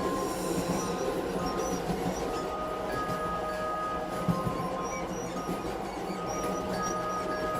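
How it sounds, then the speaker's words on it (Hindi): A train starts to move amid rumbling wheels and rail noise, with faint squeals and clanks over a steady low roar, used as a sound effect in a horror story. "ट्रेन चलने लगती है।"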